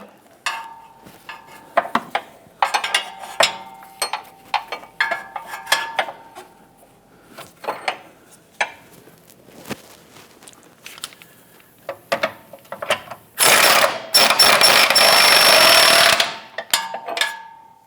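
A wrench clicks and clanks against a nut on a subframe bushing of a 2008-2013 Nissan Rogue in a run of sharp, uneven metallic taps, then a loud, steady burst of mechanical ratcheting near the end.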